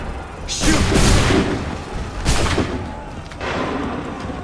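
Musket volley fired in the video game Assassin's Creed 3, loud booming blasts of massed gunfire, one large crackling volley followed by two more rolling bursts, with echoing rumble between.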